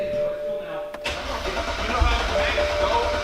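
A 2008 BMW 135i cranks and catches after a fuel pump repair, a short starter whir breaking off before the engine fires and settles into a steady close idle while people talk nearby.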